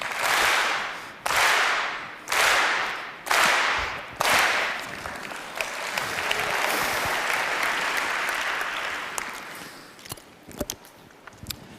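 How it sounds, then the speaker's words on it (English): An audience claps in unison, five loud synchronized claps in a slow steady rhythm, then breaks into scattered, sustained applause that fades into a few isolated claps. "you clap, everybody in unison"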